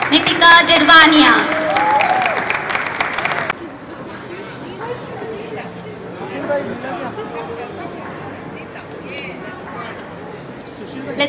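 An audience at a book launch celebration applauds loudly for about three and a half seconds, then crowd chatter and murmuring continue at a lower level.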